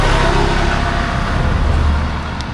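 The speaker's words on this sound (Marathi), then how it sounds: "गाड्यांचा आवाज भरपूर आहे" Loud, constant roar of road traffic in the Konkan region, with vehicles rumbling and passing close by, engine noise swelling and fading.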